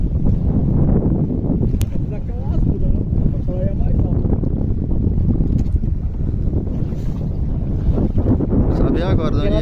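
Loud, close engine roar of a speedboat moving over water, steady throughout with wind buffeting the microphone and voices mixed in.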